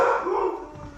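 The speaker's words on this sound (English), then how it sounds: "And that is our dog in the background." A dog gives a drawn-out howling bark that slides downward and fades over about a second, fairly loud and close, heard alone at the start of an outing to ride a RZR at Juniper Dunes in Pasco, Washington.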